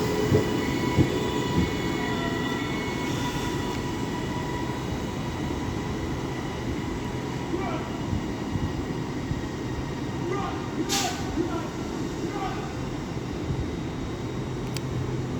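An LNER Azuma train pulls out of Doncaster station on the East Coast Main Line, a steady loud rumble with rolling wheel noise and occasional brief squeals, heard close on the platform.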